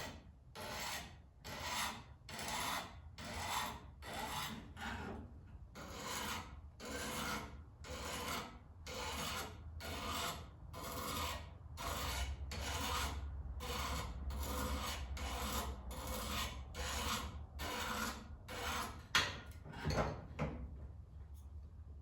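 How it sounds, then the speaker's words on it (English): A knife is drawn back and forth over a sharpening stone in steady, repeated rasping strokes, about two per second, close and continuous with no talk. "Normally I think you would drag the knife itself against the stone"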